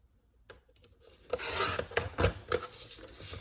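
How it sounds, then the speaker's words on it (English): Paper card base being trimmed for a handmade card, a dry rasping, scraping cut that starts after half a second and runs in short strokes with a few sharper snaps, fairly close and alone. "We're just gonna trim the entire card base right there."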